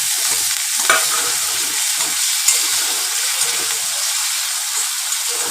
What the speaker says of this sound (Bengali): এবার এর সাথে আদা রসুনটা দিয়ে ভাজতে থাকে।